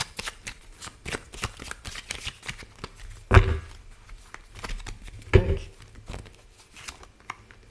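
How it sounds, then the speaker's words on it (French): Playing cards, apparently a tarot-style deck, being shuffled and handled close up, with continuous riffling flutters and two louder slaps as cards are laid down, no talking. "Je vais juste vous recouvrir le 8 de pique pour voir."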